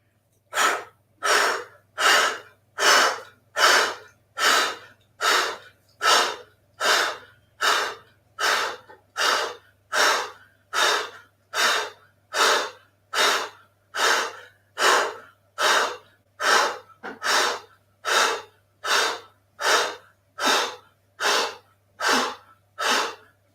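Deep breathing in a live-streamed yoga class, with about thirty close, loud breaths repeating at a steady even pace over a faint low hum.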